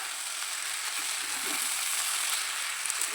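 Egg chow mein ingredients sizzle and fry steadily in a pan while being stirred together, a continuous bright crackling hiss with faint scraping, close and alone without speech.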